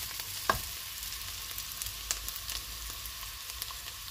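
Chicken with whole spices, including dried chillies, fries in a pan while being stirred, a soft continuous sizzle with a few sharp clinks of a spoon against the pan, no voices.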